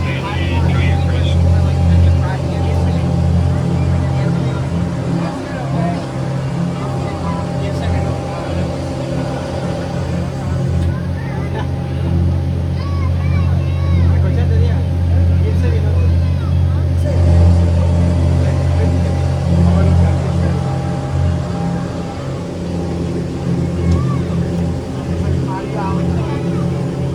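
A Disney Springs cruise boat in Florida runs its engine with a continuous low, steady drone and hum throughout, while people talk quietly over it.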